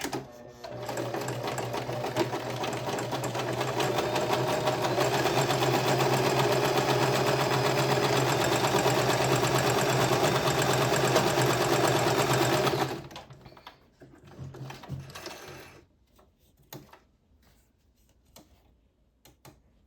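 A sewing machine runs steadily for about thirteen seconds, stitching a seam with a loud, close, continuous whirring hum, then stops, leaving a few faint clicks and handling noises.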